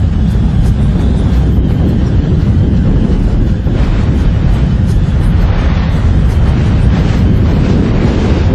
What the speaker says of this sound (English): The shockwave arrives. Next comes the blast front.